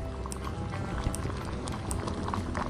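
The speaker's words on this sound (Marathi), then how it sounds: "आपल्या पाण्याला मस्तपैकी उकळी आली आहे" A pot of water with salt, moong and toor dal boils hard, a steady close bubbling and popping that carries on alone.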